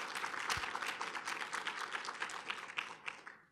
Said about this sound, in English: let's give them a round of applause in their absence